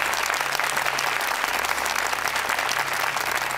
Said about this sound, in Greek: Ένα χειροκρότημα για τον Γιάννη, παρακαλώ.